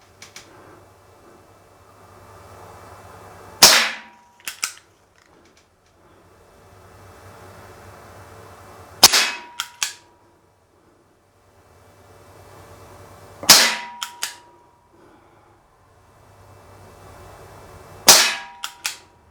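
A Schofield No. 3 CO2 BB revolver fires four sharp, loud shots spaced several seconds apart, each crack followed by a brief rattle and a light clatter, with a faint hiss in between.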